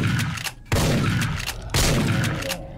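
Loud, close gunfire from the video game Dead Effect comes in three sustained bursts of rapid automatic shots, each starting sharply and running on in a dense, roaring rattle with no talking.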